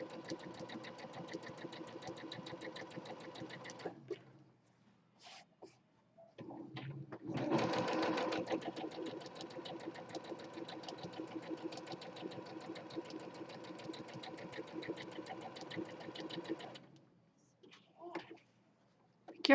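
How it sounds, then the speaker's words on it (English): A sewing machine stitches in long, rapid runs with brief pauses between, a busy mechanical chatter close by, with faint voices in the gaps. "change the foot on my sewing machine, and I'll get the sewing done"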